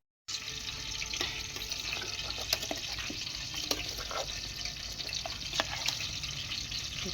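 Steady broadband sizzling and crackling of ingredients for tomato chutney frying in a pan, continuous and fairly close, with occasional sharper pops and clinks.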